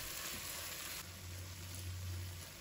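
Bitter melon with carrot and king oyster mushroom being stir-fried in a wok with a little starch slurry and oil, giving a steady close sizzle with soft scraping of the spatula and no talk.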